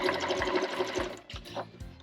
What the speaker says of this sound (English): I'm going to back stitch at the beginning